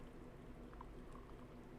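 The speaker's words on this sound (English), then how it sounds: "You're gonna pour that in." Hot Indian chai poured through a fine strainer into a teapot makes a soft, steady trickling stream, quiet and continuous with no talk.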